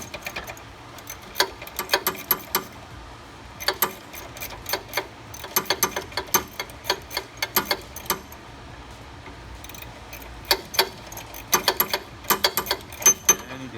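A ratchet clicks rapidly in bursts while breaking loose a small bolt on a car's brake line bracket, giving close, crisp metallic ticking with short pauses between runs.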